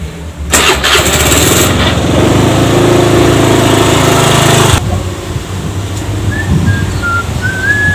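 A motorcycle engine cranks and catches with a sharp whirring start, then runs at a loud, steady idle for about four seconds before cutting abruptly to quieter background with faint whistling tones.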